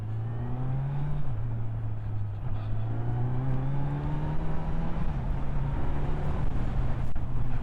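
A 2021 Kawasaki Z900 inline-four motorcycle engine hums while riding in fourth gear, sport mode, a loud steady buzzy drone with a slight dip in pitch partway, mixed with wind noise.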